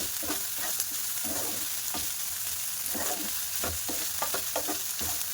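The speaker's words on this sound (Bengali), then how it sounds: "এবার যে চিকেনটা কুচিয়ে রেখেছিলাম সেই চিকেনটা দিয়ে দিলাম, দিয়ে ভালো করে নাড়াচাড়া করে নেব" Chopped chicken fries in a hot pan while it is stirred, producing a steady nearby sizzle with a rhythm of repeated scraping and tapping strokes.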